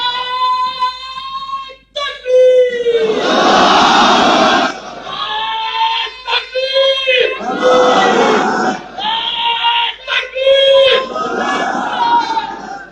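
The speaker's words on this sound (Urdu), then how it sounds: "میں نے کہا نعرہ نہیں لگانا، انہوں نے نعرہ لگایا" Crowd chanting a slogan in unison at a political rally, loud repeated bursts of many voices rising and falling with short pauses between.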